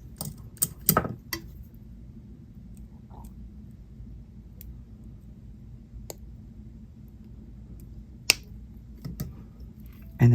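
Sharp metallic snips from cutting a chain link with a jewelry tool while making earrings, a few crisp clicks early on and scattered later, close-up over a low hum.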